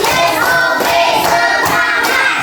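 Elementary-school children in a classroom clap together in a counted routine, with a steady run of dense, fairly loud claps and a few stronger accented bursts.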